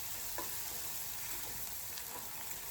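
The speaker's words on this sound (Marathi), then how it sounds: "आलं लसूण पेस्ट टाकल्यावरती हे थोडंसं उडतं" Ginger garlic paste sizzles faintly in a pan of chicken masala while being sautéed, a soft steady frying hiss with a couple of light spatters.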